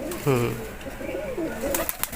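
A pigeon gives a low, rolling coo nearby, followed by softer murmuring calls, while someone talks quietly in the background.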